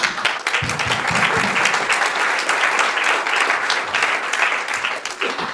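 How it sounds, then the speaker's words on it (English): An audience applauds the event host at an International Women's Day celebration, a steady, dense clapping that stays loud for the whole stretch with no pause. "you could do a round of applause for her"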